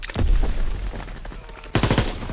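Gunfire in a WWII shooter set in the Ardennes forest, with close, loud overlapping rifle and automatic shots in a chaotic cluster, a lull, then another dense burst of rapid shots.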